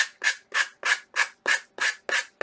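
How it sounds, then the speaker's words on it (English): A sanding block rubs along the edge of a home decor piece in about eight quick, evenly spaced strokes, each a close, crisp scraping burst with short gaps between. "As you're sanding, that edge just pops right off."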